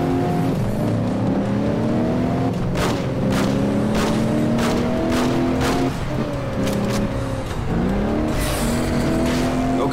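Car engine revving and accelerating through rising gear shifts in the video game Alarm für Cobra 11: Das Syndikat during a police chase, loud and continuous with tire noise throughout.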